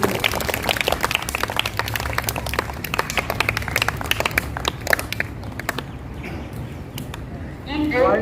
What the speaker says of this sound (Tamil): நல்ல ஜோரா கைத்தட்டு.